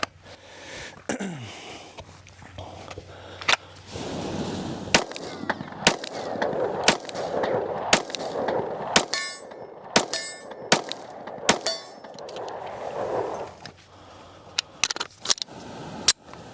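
A Rost Martin RM1C pistol fired at a target 30 yards away at an outdoor range, with a dozen or so sharp, loud shots spaced irregularly a second or two apart over steady background noise.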